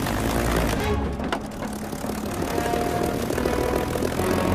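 A Spitfire propeller plane engine drones in a loud, continuous roar with a rough, throbbing low rumble, close by and steady throughout.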